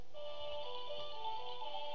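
Phone message alert chime in the Pokémon Black 2 video game, a short, soft electronic tone heard alone for about two seconds.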